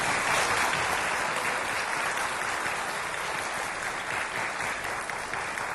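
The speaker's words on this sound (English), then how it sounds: "Big round of applause." A large audience at a university president's fall welcome address breaks into sustained applause, a dense wash of clapping that holds steady at full strength for several seconds.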